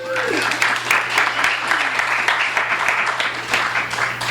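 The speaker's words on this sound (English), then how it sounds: "Round of applause for Emily." A small audience at a book reading claps for a woman named Emily, a continuous, fairly loud burst of hand claps with a low steady hum beneath and a brief voice at the start.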